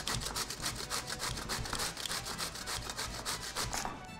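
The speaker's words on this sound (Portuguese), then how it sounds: "Eu vou ralar nessa parte mais grossa do ralador." A medium-small Italian zucchini is rubbed against the coarse side of a kitchen grater, producing fast, rhythmic rasping strokes, close and loud, about four per second without pause.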